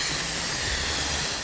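An Instant Pot pressure cooker vents steam in a quick release: a loud, steady, continuous hiss that stays close and unbroken throughout.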